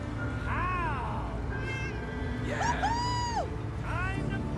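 A cat meows repeatedly in Fallout 4, several rising and falling cries over steady game ambience and background music, with a pause in the middle.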